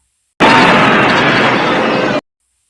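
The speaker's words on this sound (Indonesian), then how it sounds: "Untuk bukti, Kwong meledakkan bom yang berada di baju Linam." A bomb strapped to a person's clothing detonating in an action film, a loud, dense roaring blast that starts abruptly, holds steady for nearly two seconds, then cuts off into silence.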